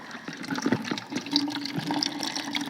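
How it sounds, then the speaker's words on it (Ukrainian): Liquid drains and trickles off tomato ketchup mix set outdoors on a stump, a faint irregular dribbling and splashing of water, close and quiet, with no talking. "Ось така тече водичка."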